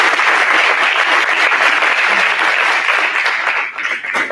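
Audience applause at a JROTC building dedication ceremony, steady dense clapping from a crowd that holds strong for several seconds before thinning out at the end.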